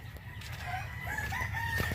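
A rooster, the father bird of a laying hen, crows faintly in the distance over a dense, noisy backyard bed of ambient sound, with no one talking.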